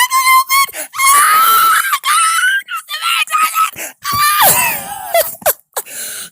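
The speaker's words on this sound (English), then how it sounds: "I promised I was not going to scream today" A woman screams with excitement in long, loud, high wailing bursts that rise and break, with short gasping pauses between them, very close and strained.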